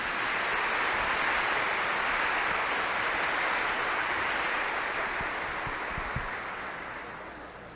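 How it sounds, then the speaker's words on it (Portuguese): Church congregation giving a round of applause at a catechesis gathering: a dense, steady wash of many hands clapping at once, even and sustained throughout before easing off slightly at the end. "Uma salva de palmas para as duas"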